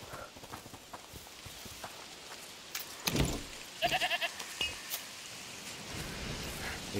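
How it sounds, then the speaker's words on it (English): Goat bleats in A Plague Tale: Requiem, a short cluster of bright bleats around the middle over a low ambient game background, with brief clatter before it. "Is that the goat he talked about?"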